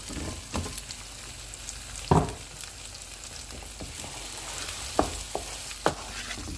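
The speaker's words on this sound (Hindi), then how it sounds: "चीज़ को मिक्स कर दिया है मैंने" Paneer cubes stirred into palak in a pan: a low steady sizzle with a few distinct scraping stir strokes, one stronger around the second beat and more near the end, close and fairly quiet, no talk.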